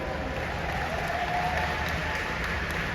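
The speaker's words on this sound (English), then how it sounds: "Clap it up for that." An audience applauds steadily at a business talk, the clapping a soft, even wash heard from a distance without any break.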